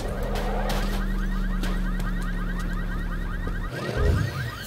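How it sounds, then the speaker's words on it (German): Car alarms in Batman: Arkham Knight give a loud, steady warbling electronic wail that repeats rapidly for several seconds, then cuts off abruptly and a brief low thud follows. "Jetzt machen die Autos wieder Alarmanlage."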